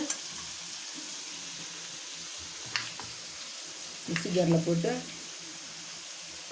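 Food sizzles steadily while sautéing in a pan, with scattered clinks of a utensil stirring and a short burst of louder scraping and frying near the end.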